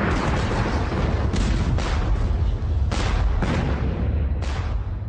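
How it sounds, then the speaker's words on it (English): Naval bombardment with explosive shells from warships: loud, continuous rumbling booms and heavy blasts rolling one after another, dense and close, with no talking. "The Russian Admiral Nachimov launched an attack using a devastating new weapon, explosive shells."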